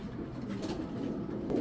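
Pigeons give a brief, soft, low cooing murmur, faint and steady, with no voices.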